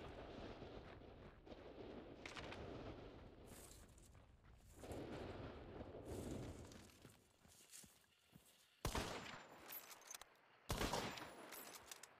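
Sniper gunfire in the video game Hunt: Showdown, with a few sharp, loud shots and bursts spread across the stretch amid rumbling in-game ambience and footsteps, with no talking.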